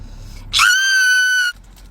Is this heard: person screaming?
yes